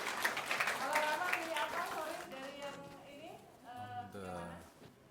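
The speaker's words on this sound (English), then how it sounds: "Applause for Rama." The audience at the Social Good Summit in Jakarta gives a presenter, Rama, a brief round of applause, a dense patter of clapping for about two seconds, before talking takes over.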